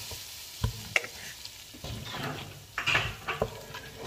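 Creamy, cheesy red pasta sauce spiced with black pepper and chilli powder simmers in a pan, giving a quiet, steady sizzle broken by a few light clinks and scrapes of a spoon.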